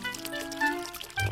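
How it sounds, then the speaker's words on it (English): Water poured into a large tub, a steady splashing fill running under tonal background music, with a louder gush near the end. "With the bird's advice, the princess filled a large tub with water."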